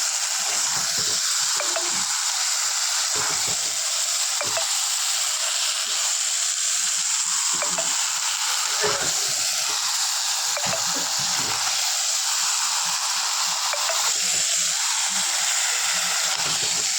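Chicken and potatoes are sautéed together in a pan for chicken kosha, giving a continuous bright sizzle and hiss with occasional scraping stir sounds, close up and unbroken, without speech over it.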